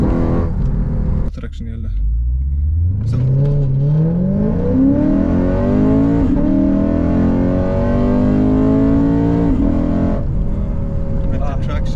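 A Lexus RC F fitted with an Invidia exhaust revs up and launches hard from a standstill, its engine note climbing loudly through the gears after a short pause, with a brief shout near the start.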